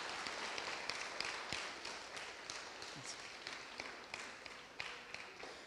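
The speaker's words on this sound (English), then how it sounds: "Let's give them a round of applause." A church congregation gives a round of applause to welcome visitors during a Sunday service, a steady wash of many hands clapping that sustains throughout at moderate, somewhat distant level with a few sharper claps standing out.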